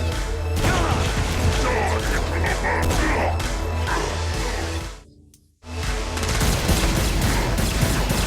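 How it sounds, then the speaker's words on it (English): Dense gunfire fills a battle in the video game Saints Row: Gat out of Hell, rapid shots and crashes layered into a continuous loud barrage that cuts out briefly before resuming. "The battle raged on below, and as bullets and blood flew"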